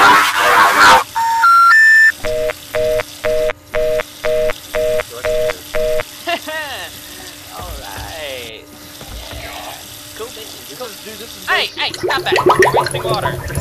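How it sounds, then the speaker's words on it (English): A phone rings in the horror game Paranormal with a repeated electronic ringtone of evenly spaced loud bursts, followed by warbling electronic sounds and rising noise toward the end. "Our cell phone's ringing."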